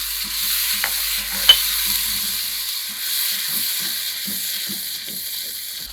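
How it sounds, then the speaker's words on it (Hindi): Water splashed into a pan of sizzling masala for gobi chicken, a steady frying hiss with a sharp crackle burst near the start and scattered stirring scrapes throughout. "थोड़ा सा मैं इसमें पानी डालूँगी।"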